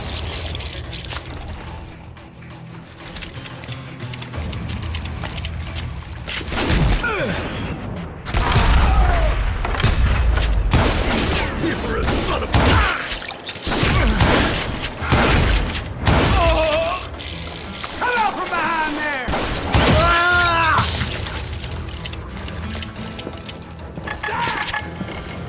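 Gunfire rattles back and forth in a Gunslinger video game fight against a Gatling gunner, with loud broadband bursts and sharp cracks that are dense and uneven, nearly continuous over a steady rumbling background.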